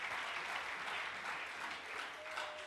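A church congregation applauds steadily throughout, a dense, even wash of clapping from many hands filling the space with no pauses.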